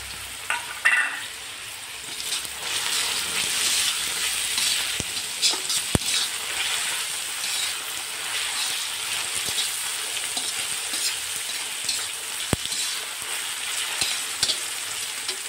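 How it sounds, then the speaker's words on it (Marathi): Onion and tomato sauté in a pan for a mixed-vegetable dish, giving a continuous sizzle with occasional sharp spatula taps and stirring scrapes, close up, no voices. "कांदा परतवून झालेला आहे, टोमॅटो टाकून परतून घेऊया।"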